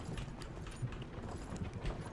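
Horse hooves clip-clopping on a road in the video game Myth of Empires, a faint, uneven series of soft thuds over low background noise.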